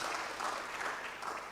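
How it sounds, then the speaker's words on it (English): An audience at a mental health summit gives a short, faint burst of clapping, a brief patter of many hands heard at a distance. "Can we give ourselves a big hand clap?"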